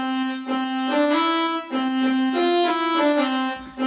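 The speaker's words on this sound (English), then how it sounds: "It's made out of a violin first that sounds like this." A violin lead sample in a future bass production plays a bright sustained melody of several held notes stepping up and down, clear and upfront with rich tone and no voices.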